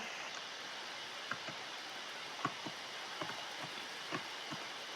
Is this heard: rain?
yes